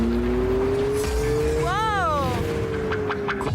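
An Abarth 500e electric sports car drives by with a thin rising electric whine over road rumble, joined briefly mid-way by a warbling tonal sweep, with a voice talking over the sound.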